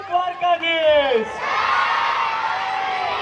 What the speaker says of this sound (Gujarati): આવો ગોપાલ સર તાળીઓના નાદથી વધાવીએ.